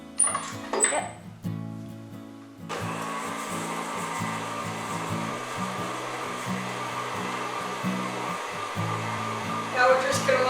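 Electric mixer stirring all-butter shortbread cookie dough with brown sugar, a steady motorized whir that kicks in after a brief pause and runs on loudly and evenly, with faint kitchen clatter at the start.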